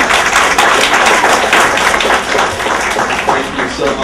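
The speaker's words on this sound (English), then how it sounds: "I want to please give him a round of applause and come on up and say your word." Audience applauding a speaker at a political campaign event, loud sustained clapping from a crowd for several seconds, with voices mixed in underneath.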